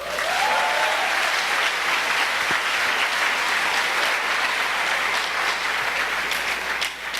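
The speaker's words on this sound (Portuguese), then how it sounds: "Se você concorda, aplauda Jesus." Loud, sustained applause from a church congress audience in Fortaleza, a dense wash of many hands clapping for several seconds, fading slightly toward the end.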